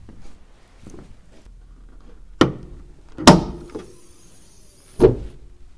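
A Mercedes G500 with its V8 petrol engine is handled in the open, giving several sharp mechanical clunks and latch thuds spaced a second or so apart over a quiet background.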